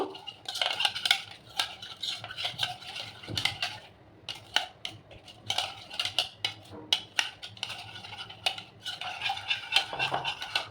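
Eggs seasoned with a little black pepper are beaten in a bowl with a utensil, a quick run of close, clattering taps and scrapes in bursts, with a short pause partway through.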